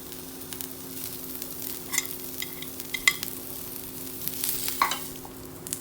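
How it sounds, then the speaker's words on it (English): Onions sauté in a pan for sambar, giving a quiet continuous sizzle with soft intermittent stirring scrapes and small pops, close and without any voices. "Now saute the onions well."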